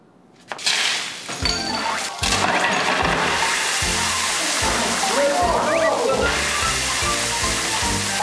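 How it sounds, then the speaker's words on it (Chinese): Water gushes from a broken faucet in a steady, loud rush that begins abruptly and keeps going, with people talking over it. "是水龙头坏掉"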